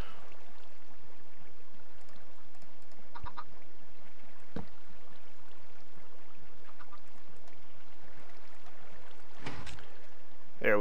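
Chickens in a Minecraft chicken and egg farm cluck in a few short, faint, scattered calls over a soft wash of flowing water, with no talking.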